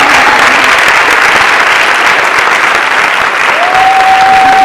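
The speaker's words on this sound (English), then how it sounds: "if we could give Morris a round of applause" Sustained audience applause at a departmental event, a dense steady wash of clapping filling the room at even loudness throughout, with a brief whistle-like tone near the end.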